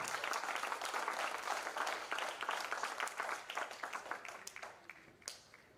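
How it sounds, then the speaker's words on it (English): Corporate event audience giving a round of applause for two colleagues, loud sustained clapping from a crowd that gradually thins and tapers off toward the end. "So big round of applause for both of them."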